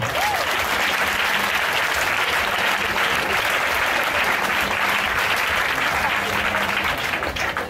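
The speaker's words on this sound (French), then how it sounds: "Est-ce qu'on peut acclamer le Seigneur?" A church congregation applauds to acclaim the Lord, a dense, loud and sustained wash of clapping from a large crowd that holds steady throughout without pause.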